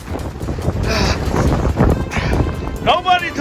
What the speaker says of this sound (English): Nobody told me Arizona was this windy.